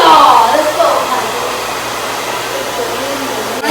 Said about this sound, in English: Hair dryer. Let's see if it works.